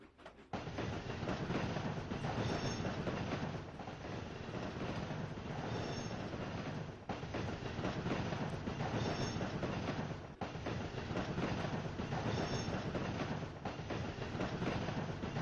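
Freight cars being shoved onto a track in the Trainz 2019 railroad simulator, a loud continuous rumble of rolling wagons with a repeating clickety-clack of wheels over rail joints and faint squeal, no talking.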